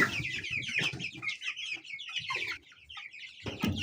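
Fifteen chickens newly released on a small farm cluck and chirp continuously nearby, a busy overlapping chatter of short calls.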